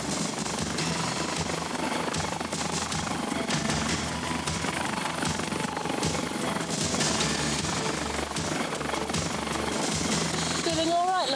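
A helicopter emergency medical service aircraft drones steadily throughout at close range, a dense rotor and engine roar that masks the speech mixed in with it.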